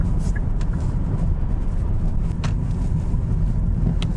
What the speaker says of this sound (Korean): 타이어를 타고 들어오는 노면 소음이